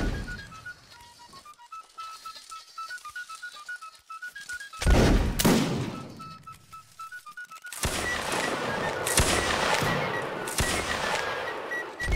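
Volleys of musket fire from a Napoleonic line in Mount & Blade: Warband Napoleonic Wars, with a loud close blast near the middle, then a dense run of overlapping shots crackling on and off until the end.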